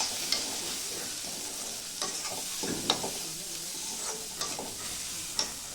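Turmeric and salt being stirred into rice frying in a pan, with a soft continuous sizzle and several distinct scraping strokes of the spoon, close up and without talk.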